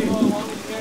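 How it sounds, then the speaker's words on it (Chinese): Heavy typhoon rain falls in a dense, steady hiss throughout a very brief moment, fairly loud and close, with no talking. "台风雨再度落下"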